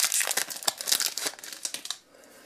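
Plastic wrapper of a Dinosaurs Attack trading card booster pack crinkles and crackles loudly and close in quick bursts for about two seconds, then drops to a faint hush.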